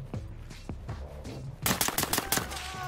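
Gunfire in the tactical shooter game Ready Or Not: a few scattered single shots, then a loud rapid burst of several close reports, with game noise in the background.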